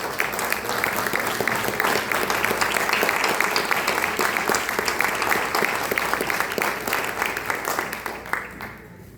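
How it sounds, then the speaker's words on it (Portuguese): A church congregation at a Father's Day service breaks into steady, loud applause, many hands clapping together for several seconds before the sound tapers off at the end. "dá uma linda salva de palmas para o Senhor Jesus"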